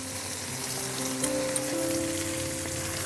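Tomato puree and chilli powder sizzle in hot oil while cooking Kashmiri rajma chawal, a steady, close, crackling fry with a faint hum underneath.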